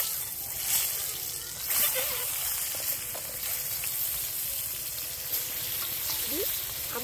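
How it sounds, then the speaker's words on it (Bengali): Boiled eggs fry in mustard oil in a wok with a steady, close sizzle and occasional splattering stirs, while a voice talks over it. "ডিমগুলো কষে নেব"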